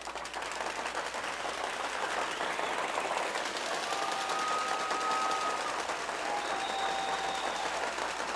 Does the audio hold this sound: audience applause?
yes